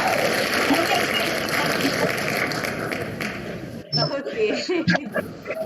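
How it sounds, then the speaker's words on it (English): Clapping from an online convocation ceremony audience, a dense steady patter of many hands for several seconds that thins into scattered claps, with talk over it near the end. "Yes, the claps are working."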